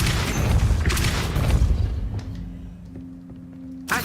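A Depulso repelling spell lands in Hogwarts Legacy with a heavy booming impact and clattering mechanism sounds, fading into a low steady hum before a final thump.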